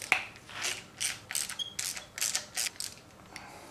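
A hand ratchet clicks in short rhythmic bursts as it backs out 10mm valve cover bolts on an engine being torn down, close and quiet, with no talking.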